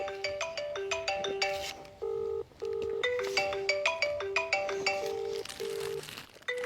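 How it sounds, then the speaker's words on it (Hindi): A mobile phone ringtone plays a bright, repeating electronic melody of clear tonal notes, loud and close, running steadily with no one speaking. The phone is about to be buried in a heap of cow dung. "अब आपको एक बार रिंग बजा के दिखाते हैं।"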